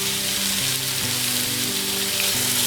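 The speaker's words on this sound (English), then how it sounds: "I'm using my trusty wok just to brown off the beef." Beef browning in ghee in a wok, a continuous bright close-up sizzle heard beneath a steady background of sustained musical tones.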